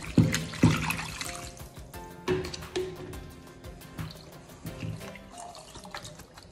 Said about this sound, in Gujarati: અને પાણી બધું કાઢી લેવાનું છે